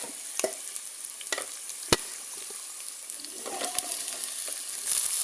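Colocasia tubers and tomato sauté in oil, with a steady hiss of frying broken by sharp scraping stirs and clicks of a spoon against the pan, heard up close without speech.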